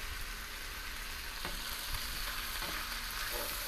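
Potatoes cook down in a skillet for a quick one-pan dinner, with a constant close sizzle and a few faint clinks of a utensil against the pan.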